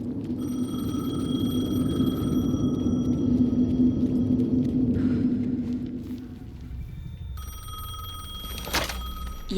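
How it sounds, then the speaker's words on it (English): A telephone rings repeatedly in Alan Wake 2, its steady tones set over a low droning rumble that eases off midway before a brief sharp burst near the end. "The phone again."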